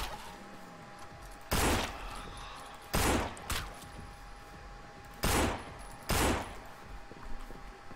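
Gunshots in the zombie game No More Room In Hell: four loud, separate blasts spaced about a second apart, close and punchy over a quiet background hum, with no talk.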